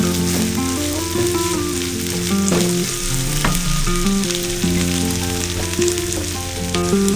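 Potato pieces fry in oil for an egg masala curry, a continuous close sizzle heard under a steady tonal melody that plays throughout.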